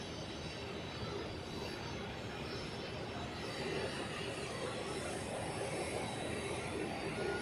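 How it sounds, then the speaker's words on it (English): An Airbus A320 getting ready for departure at Zurich airport on a freezing day, a steady distant rumble of engines and ground noise, broad and fairly faint, with no voices. "And here we have this A320-300 getting ready for departure."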